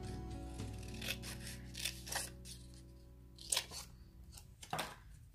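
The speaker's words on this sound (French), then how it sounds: "Je suis en train de découper à côté." Scissors snipping paper while making a small autumn card, a few quiet, irregular crisp cuts and rustles close to the microphone with no talk.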